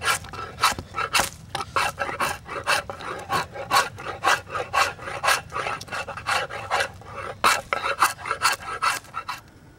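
Rapid, rhythmic rasping of a coarse file scraping white sapwood off a wooden bow stave, close and steady, with repeated strokes and brief pauses.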